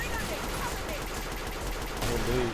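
Gunfire from a weapon in the video game Killing Floor, rapid repeated shots in a dense burst under chaotic game noise, steady and fairly loud across the moment.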